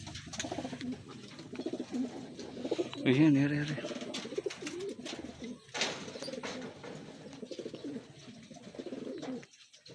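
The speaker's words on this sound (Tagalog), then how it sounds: "Ang dami pala ditong ibon." Racing pigeons coo in a loft in San Antonio, Nueva Ecija, several soft, throaty calls close by, with someone talking casually over them.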